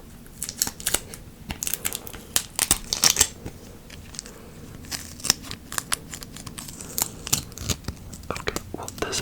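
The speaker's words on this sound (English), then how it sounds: "I'm going to add some tape to it and see how that sounds." Close, crisp ASMR tape sounds as a strip is rolled out, pressed down and crinkled, giving quick rustling crackles and sharp tearing snaps with a faint low background.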